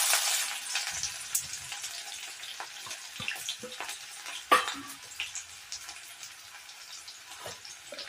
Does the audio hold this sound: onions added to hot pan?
yes